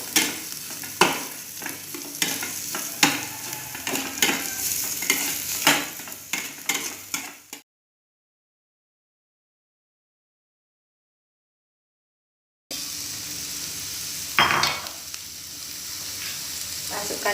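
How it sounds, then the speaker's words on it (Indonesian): Sausage, meatballs, broccoli and green beans stirred in a frying pan for homemade fried rice: steady scraping and clacking over a low sizzle, breaking off into silence midway before the stirring and frying resume. "masukkan sosis, bakso, brokoli, buncis. Kemudian diaduk."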